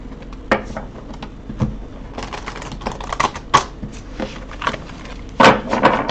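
Tarot cards being shuffled by hand in a tarot reading, a series of irregular soft slaps and riffling bursts close to the microphone, with one louder flurry near the end.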